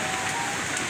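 Rain falling steadily outdoors in Bogor during a wet group bike ride, a dense even wash of patter heard throughout at moderate loudness, with no talking.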